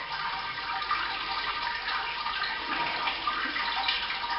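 Wort trickles slowly down through the grain bed of a Robobrew during an IPA mash, a soft, continuous watery patter close at hand with no voices.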